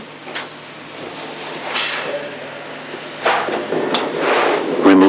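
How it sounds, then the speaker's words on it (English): Plastic seat cover on a BMW E31 being unclipped by hand in a workshop, with several short snapping clicks and scraping rustles close by, the last clip releasing loudest. "Now insert the fingers under the rear part and unclip it completely"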